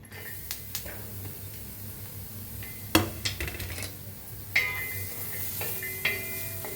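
Green chilies and turmeric roasting in a pan on the stove, with a utensil scraping and clinking against the metal in scattered sharp knocks over a low, steady background hum.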